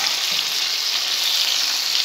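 Crucian carp frying in a pan produces a loud, close, continuous sizzle and crackle with no talking.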